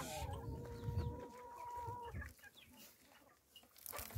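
Hens and chicks cluck and chirp close by on a village farm, a steady run of soft, quiet calls with a few sharper clucks.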